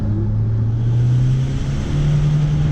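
A remapped car engine held at full throttle, heard as a loud, close, steady roar with a rising drone that climbs gradually over a few seconds.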